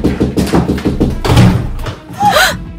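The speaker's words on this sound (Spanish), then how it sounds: "Llaman a la puerta." Knocking on a door in a live-action Siren Head skit: a quick, even series of hollow thumps, then a short pause before voices are heard.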